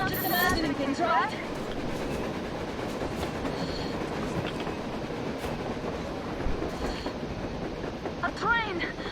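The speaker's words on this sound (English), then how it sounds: "A train! A damn train on the surface!" A train rumbles past on the surface in the post-apocalyptic shooter Metro Exodus, a steady rolling clatter with occasional squealing wheels and metallic screeches, mixed with game ambience and faint voices.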